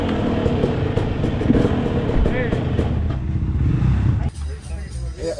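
A loud two-stroke dirt bike engine runs up close with rough, buzzing revs and clatter, a voice talking over it before the engine drops off.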